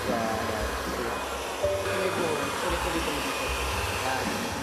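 A hair dryer blows steadily during a hairstyling makeover, a continuous whooshing roar with slight wavering, fairly close, with no clear speech over it.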